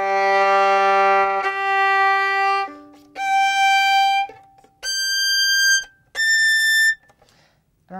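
Violin playing a fast Lalo passage slowed into an outline for practice: five sustained, separate notes climbing in pitch with quick shifts and short gaps, clear and close with no talk.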